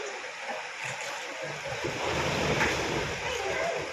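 Floodwater sweeping away a house in central Tirunelveli, heard as a steady loud rush of churning water with a wind-blown roar throughout.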